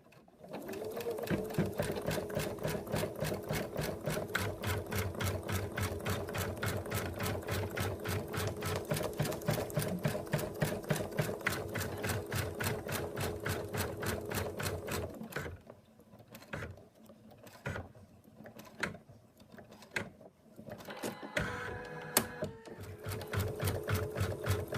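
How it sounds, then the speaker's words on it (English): An embroidery machine stitching out the outlines of an in-the-hoop moose design, with a fast, steady, even rhythmic whir and clatter that runs for about fifteen seconds, then turns into choppier, intermittent stitching bursts. "now we're going to stitch out the last color, and that's going to do the outlines."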